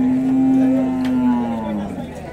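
Cattle low with a long, loud, steady moo from a pen at a cattle fair in Dois Riachos, Alagoas, Brazil, with faint crowd chatter in the background.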